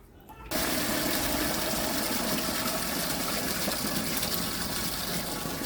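Water pours into an aquarium in a steady, continuous gush that starts abruptly and holds loud and close for several seconds without break.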